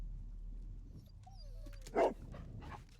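A dog in the Sherlock Holmes: Crimes and Punishments video game gives a quick yelping bark amid faint whimpers, set over a low, steady ambient hum and quiet game background sounds.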